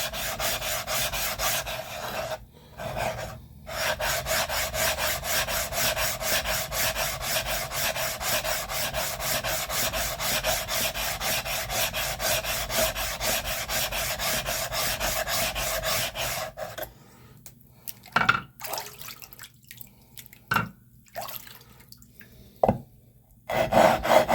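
Knife blade rubbing on a Naniwa Snow White 8K whetstone: a long, steady run of rapid rasping strokes, close and even, then a pause broken by a few separate scrapes and taps.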